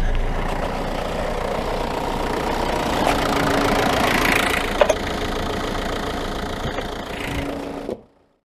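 Land Rover engine idling with a can wedged over the end of its exhaust pipe, a steady close knocking rumble that runs alone for about eight seconds with a couple of brief clicks, then cuts off.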